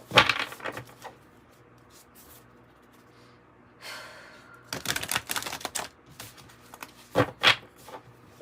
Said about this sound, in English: get them good and shuffled. Get a good shuffle going on